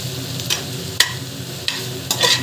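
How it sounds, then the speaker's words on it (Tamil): Ginger garlic paste sautéed with vegetables in a pan for a vegetable biryani: a low steady sizzle broken by several sharp scraping stir strokes. "அந்த ஜிஞ்சர் கார்லிக் பேஸ்ட் வாசம் போகிற வரைக்கும் வதங்கணும்"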